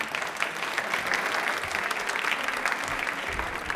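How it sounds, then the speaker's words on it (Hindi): Steady, dense applause from a studio audience on a televised Hindi quiz show, sustained at an even level throughout with no voices on top. "तालियां जोरदार बजा दीजिए इनके लिए।"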